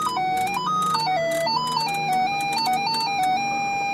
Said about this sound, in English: the parking aid, which you can control the volume from the parking sound speakers, which listen up